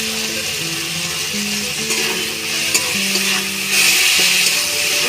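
Taro flowers fry and sizzle in a pan with steady crackling, and there is occasional stirring and light clinks against the metal, heard close with no speech.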